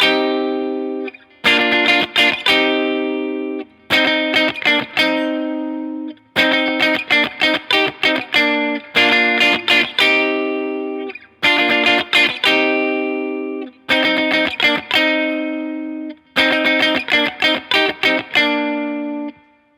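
Electric guitar with a distorted, effects-laden tone strums the chord progression of a song, with sharp rhythmic chord stabs grouped into repeating bars separated by short pauses, played steadily and alone.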